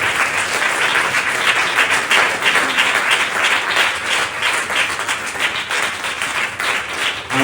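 Congregation applauding during a church sermon gathering, sustained loud clapping from many hands with a slightly uneven swell and no voices heard over it.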